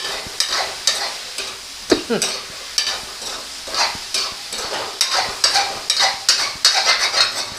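Spicy Thai basil stir-fry is tossed in a pan: repeated scraping stirs with metal clinks keep a steady rhythm over a continuous close sizzle, with no talking.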